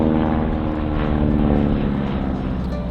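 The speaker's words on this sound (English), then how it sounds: "There you can hear the throttle being pulled back." At the Aero Gatineau-Ottawa airshow, a wingwalking stunt plane's propeller engine drones loud and steady as the throttle is pulled back, easing slightly toward the end.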